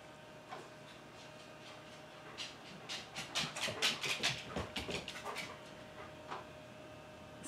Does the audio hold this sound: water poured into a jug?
no